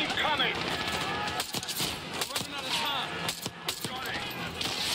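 Dense gunfire from a Call of Duty Black Ops 6 campaign battle, rapid automatic bursts with clinking casings and mechanical clatter, with voices heard over the combat.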